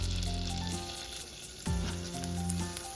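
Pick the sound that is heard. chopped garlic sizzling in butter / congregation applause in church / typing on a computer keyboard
chopped garlic sizzling in butter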